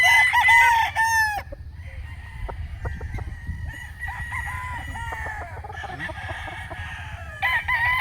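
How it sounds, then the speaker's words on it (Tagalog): A local-born Raptor Sweater gamecock crows loudly and close at the start, with further crowing and clucking from other roosters and chickens across a farmyard backdrop. "Guwapong manok guys."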